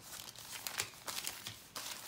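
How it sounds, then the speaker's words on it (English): Glassine bags pulled out one after another, giving soft, close crinkling rustles in quick irregular bursts with no voices. "I'm going to pull glassine bags out."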